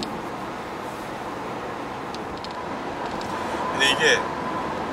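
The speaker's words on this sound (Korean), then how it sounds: "풍절이나 바닥이나 이 노이즈는 조금 심한 편이다" Steady broadband wind and road roar inside a Renault Master van on the move, a continuous cabin rumble with a brief rise near the end, with people talking over it.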